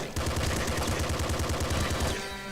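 Rapid SMG gunfire from the video game Nuclear Throne rattles in a dense, continuous burst of fast shots before cutting off near the end.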